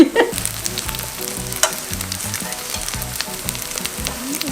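Korean radish wrapped in seaweed and coated as jeon sizzles in a frying pan, a steady close crackle with occasional light clinks and taps from turning the pieces.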